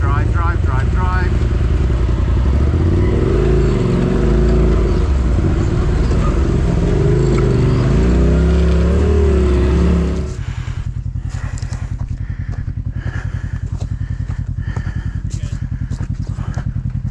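An off-road vehicle grinds along a rocky trail at Windrock's Walden's Ridge, its engine loud and close with labored revving that drops off midway into a rougher, clattering idle as wheels work over rocks.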